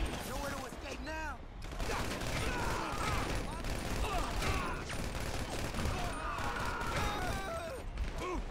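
GTA V video game gunfire in a rooftop firefight, with repeated bursts and scattered shots mixed with crashes, continuous and fairly loud under a voice talking.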